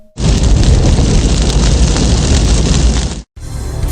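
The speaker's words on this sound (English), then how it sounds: "the candle flame quickly set the nearby curtain alight" Flames from a candle spread onto a cloth curtain in an animated story scene, a loud, dense roaring and crackling rush that fills the space steadily, then cuts off briefly before resuming.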